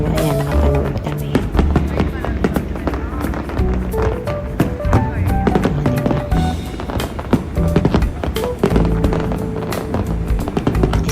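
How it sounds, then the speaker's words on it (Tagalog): Live fireworks at a celebration at Al Seef in Dubai, heard as a dense run of pops and crackling bursts over a steady crowd and music din, continuous and fairly loud throughout. "Start kasi ng celebration nila kaya may pa-fireworks."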